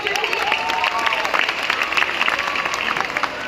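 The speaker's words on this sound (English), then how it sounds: "And now there's a round of applause" Steady applause from the audience at a dolphin show at SeaWorld Abu Dhabi, continuous and fairly close, with a few raised voices mixed in.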